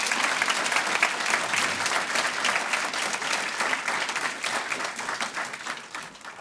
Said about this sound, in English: How about one more round of applause for all three student speakers tonight?